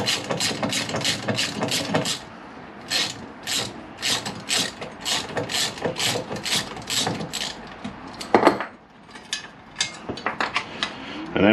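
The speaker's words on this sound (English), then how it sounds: "All I need to do now really on that is remove the brake caliper" A ratchet wrench clicks in quick repeated bursts while removing the brake caliper from a mini dirt bike, the short ratcheting runs coming close and loud with brief pauses and a heavier clunk near the end.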